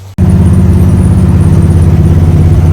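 A car engine runs loud and close while driving, starting abruptly after a brief silence, then holding a steady low, throbbing drone with an even pulse.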